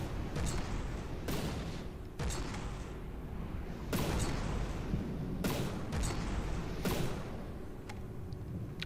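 A warship's main gun firing in From The Depths, heavy booming shots roughly every second or so, each loud blast rolling out over a constant rumbling background.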